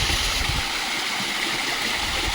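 Spring water running down the hillside at Malliamman forest temple in the Kadambur hills, a steady, close, gurgling flow with no voices.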